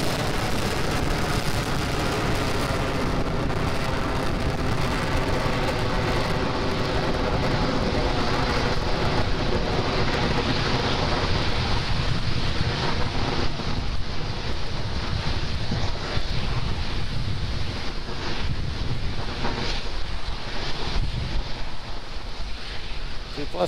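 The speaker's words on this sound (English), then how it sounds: "M1D engines are throttling down, getting ready to reduce vehicle acceleration in preparation for the period of maximum dynamic pressure" Falcon 9 rocket Merlin 1D engines roar through a launch, a continuous broad rumbling blast heard from a distance, steady and loud throughout with wind-like buffeting.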